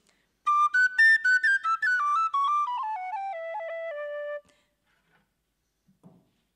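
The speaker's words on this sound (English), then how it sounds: "Here is a regular Irish tin whistle that is made out of metal." A metal Irish tin whistle plays a short descending run of clear, bright notes, close and alone, for about four seconds before silence.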